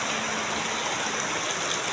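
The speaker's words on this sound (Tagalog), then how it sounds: "sana ay tumigil na talaga ang ulan na to. Dahil maano na po yung tubig dito sa aming kalsada" Heavy rain on a flooded residential street, a dense, steady hiss of falling water and rushing floodwater, loud and continuous with no voices.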